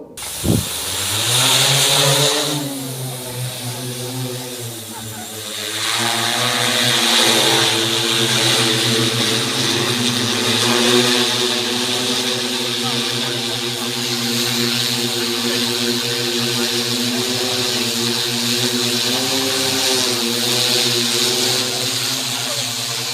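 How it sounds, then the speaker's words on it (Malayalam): An agricultural drone spraying fertilizer over a paddy field at Kondurkkara, Pattambi, gives a loud, close, steady rotor whine with an airy hiss, holding almost unchanged for over twenty seconds. "കൊണ്ടൂർക്കര പാമ്പാടി പാടശേഖരത്തിൽ ഡ്രോൺ ഉപയോഗിച്ച് വളപ്രയോഗം നടത്തി"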